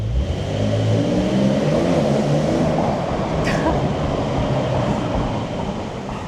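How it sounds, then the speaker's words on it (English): A loud, steady Porsche 911 sport exhaust roar as the engine accelerates hard in Sport Plus mode, sustained and echoing throughout. "Let's do a little pull with the Sport Plus on and the Sport exhaust system on"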